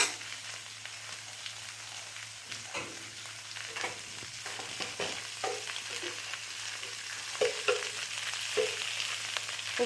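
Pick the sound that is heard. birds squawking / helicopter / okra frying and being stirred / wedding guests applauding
okra frying and being stirred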